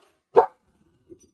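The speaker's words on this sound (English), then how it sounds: "Oh, Steve, the barking has begun" A dog gives a single sharp bark nearby, followed by a faint, brief low sound in an otherwise quiet room.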